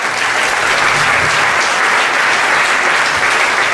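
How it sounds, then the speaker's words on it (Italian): An awards-ceremony audience at the Premio Prunola 2018 literary prize applauds the jury, with loud, dense, continuous clapping filling the hall for several seconds without a break. "volevo dedicare da parte vostra un piccolo applauso per la giuria"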